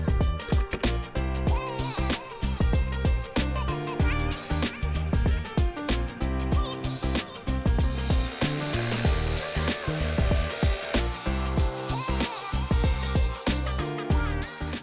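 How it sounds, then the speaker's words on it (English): Rock saw grinding steadily through a hard Condor geode agate, a continuous loud abrasive whine with rough textured cutting noise throughout. "So let's head over to the saw and start cutting."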